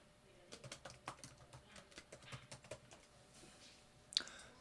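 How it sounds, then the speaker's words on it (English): Quick, irregular keyboard clicks from someone typing text into a computer while working with an Arduino LCD display project; soft, close keystrokes in short bursts, with one sharper click near the end. "So I just type that text and it appears here."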